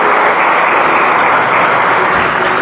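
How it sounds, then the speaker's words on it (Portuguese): Church congregation clapping together during a worship service, a dense, loud, continuous wall of applause that stays even throughout. "Aplauda ao Senhor"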